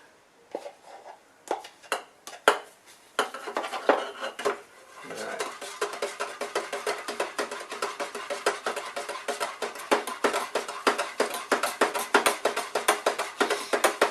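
A stick stirs a tin of lumpy edge primer paint, an acetone-thinned coating, in a steady run of close, sharp clinks and scrapes against the metal that grow busier and more continuous toward the end.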